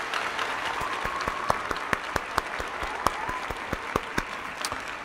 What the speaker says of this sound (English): You just earned an applause.